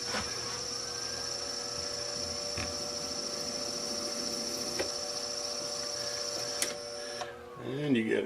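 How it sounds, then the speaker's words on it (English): A metal lathe turns slowly while power tapping a hole, with a steady motor hum and high whine, a few faint clicks, and a voice speaking briefly at the end. "Got the lathe slowed way down."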